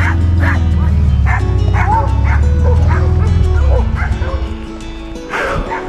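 Dog barking and yipping close by in a home driveway, with rapid repeated barks and whimpers over a low engine rumble that stops partway through, followed by quieter scattered yips.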